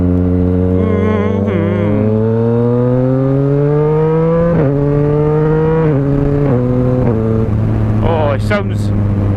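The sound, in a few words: Yamaha MT-09 motorcycle revving with Black Widow 200mm exhaust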